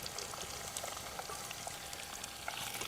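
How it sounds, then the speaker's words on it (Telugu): Green chillies and thinly sliced onion frying in a pan, a steady close sizzle with crackling pops throughout and no talk. "ఇవన్నీ వేసుకొని మంచిగా పండుగ అయ్యేటట్టు వేపుకోవాలి, మరి పచ్చివాసన లేకుండా."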